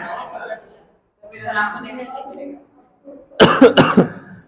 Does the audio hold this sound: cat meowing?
no